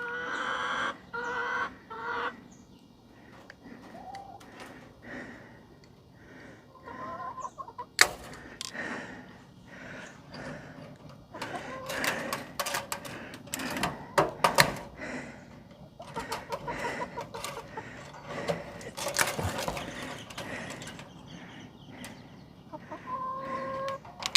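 Backyard chickens clucking and murmuring close by, with irregular bursts of louder squawks and scratching or rustling movement, and a person speaking briefly among them.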